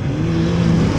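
Rear wheel drive dirt rods roar off the line at the start of a race at Stansted Raceway, a dense, loud blend of engines droning steadily with no pauses.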